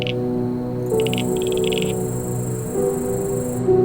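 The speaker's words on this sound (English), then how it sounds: "the sound of reed insects" Reed insects chirp steadily in rapid pulsing trills over a constant hum of background drone by a lake, with no voices.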